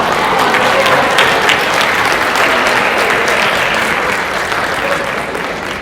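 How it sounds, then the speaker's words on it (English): A crowd at a Communities in Schools leadership panel applauds for Baby Doll, a dense, steady roar of clapping that stays loud throughout and eases slightly at the end. "Big round of applause for Baby Doll."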